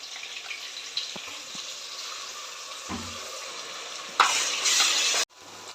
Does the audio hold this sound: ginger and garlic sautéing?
yes